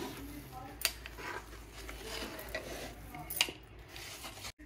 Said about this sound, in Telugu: ఇలా బాగా ఉండలు కట్టకుండా తిప్పడమే ఇది పెద్ద పని అండి